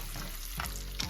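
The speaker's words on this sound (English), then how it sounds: "So in the bacon goes." Bacon frying in a Dutch oven gives a quiet, steady sizzle with a few soft crackles and a stir or scrape, very brief and alone without talk.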